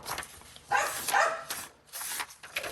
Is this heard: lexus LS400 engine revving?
no